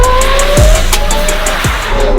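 A racing lawn mower drifts with loud, steady engine drone and repeated tire squeal, two sharp skid sweeps standing out over the continuous motor noise close by.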